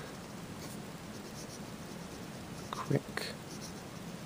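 A Skilcraft Executive fountain pen with a medium nib and cartridge ink writes on paper, a faint steady scratch under a quiet room hiss, with someone speaking briefly near the end.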